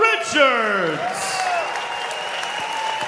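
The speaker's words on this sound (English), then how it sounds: "And a round of applause to her opponent, Chelsea Dicaprio." Crowd at a jiu-jitsu tournament breaking into applause and cheers, steady clapping heard under an announcer's amplified voice, carrying on across the whole stretch.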